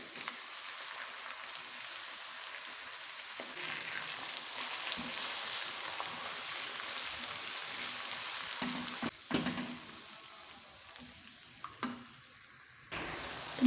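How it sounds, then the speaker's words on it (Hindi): Two large finely chopped tomatoes hit lightly fried onions in a pan, giving a continuous soft sizzle and hiss with brief stirring scrapes and shifts in intensity, fairly close and quiet, no talking. "अब हम ऐड करेंगे बारीक कट किए हुए 2 बड़े साइज़ के टमाटर।"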